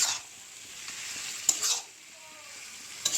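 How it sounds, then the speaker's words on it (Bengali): Chicken pieces go into a pan of fried spices and are stirred, a lively sizzle rising and easing with sharp clinks of a spoon against the pan, close and unaccompanied by speech. "মশলাও ভাজা হয়ে গেছে, এখন চিকেনগুলো দিয়ে দেব"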